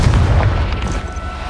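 In the Hogwarts Legacy video game, a Confringo blasting spell explodes as a short, loud, deep boom that rumbles and fades within a second and a half.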